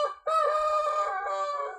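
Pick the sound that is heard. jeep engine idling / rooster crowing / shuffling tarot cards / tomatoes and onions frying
rooster crowing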